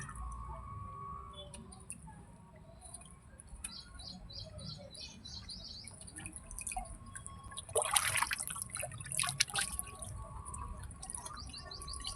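Water drips and patters steadily while a pigeon is bathed to treat ticks, with faint bird chirps in the background and a louder splashing burst near the end.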